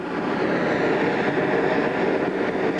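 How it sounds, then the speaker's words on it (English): A steam locomotive boiler at a historic railroad shop blows off steam in a continuous loud broadband hiss that stays steady throughout, with no voices. "What was that blowing off of steam?"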